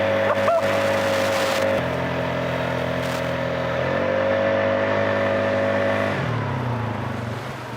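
A Polaris ATV drives off-road in high gear with all-wheel drive engaged. Its engine drones loudly and close throughout, the pitch holding and shifting as it accelerates, then dipping toward the end.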